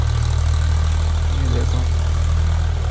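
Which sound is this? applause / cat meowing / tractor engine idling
tractor engine idling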